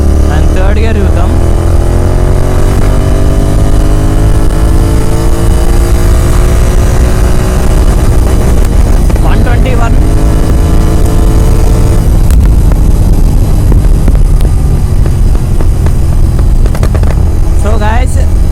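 A tuned GT 650 motorcycle revs hard through third gear, its engine note rising loud and close in long sweeps, backing off briefly and climbing again.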